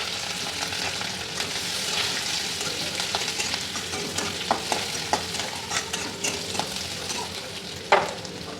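Green chilli and onion sizzle in hot oil for breakfast chowmein, a steady close frying hiss broken by scraping stirs and occasional sharper clinks of the spatula.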